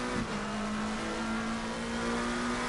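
GT3 race car engine at Bathurst in the Assetto Corsa Competizione video game, a steady, loud sustained high-speed drone holding one pitch throughout, without voices.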